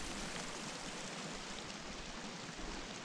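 A waterfall in the video game Sons Of The Forest gives a steady, dense rushing hiss of falling water, continuous and fairly close, with no voices over it.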